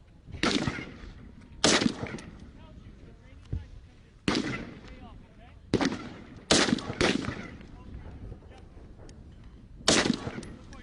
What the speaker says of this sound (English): Let's go ahead and keep shooting.